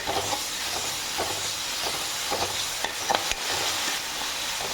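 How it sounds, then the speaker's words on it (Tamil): Ginger garlic paste frying with onions in a pan for chicken kulambu, a steady close hiss and sizzle with soft scraping stir strokes recurring throughout. "இஞ்சி பூண்டு பேஸ்ட் போட்டு நல்லா பச்சை வாசனை போகிற அளவுக்கு நல்லா வதக்கணும்."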